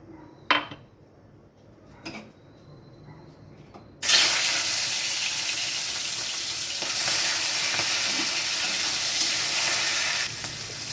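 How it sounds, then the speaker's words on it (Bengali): Prawns frying in hot oil in a wok, a loud steady sizzle that starts abruptly after a few quiet seconds with faint kitchen clinks, then continues without break. "আগে আমি কড়াইতে তেল দিয়ে চিংড়ি মাছগুলো ভেজে নেব।"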